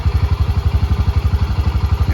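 A Honda Pioneer 700 side-by-side engine idles close by, throbbing in a steady, rapid low chug that stays loud and even from start to finish.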